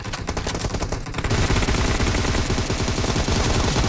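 Rapid automatic gunfire from the mobile game PUBG, played on Vivo V21 5G and Vivo X60 phones, rattles in dense, continuous bursts, loud and close, with no talking.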